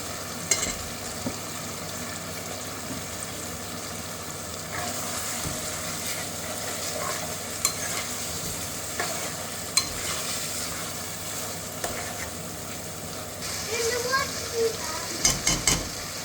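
Tomatoes, chilies and potatoes frying and being stirred in a pan with roasted spices, a steady broad sizzle running throughout with occasional scraping clinks near the end.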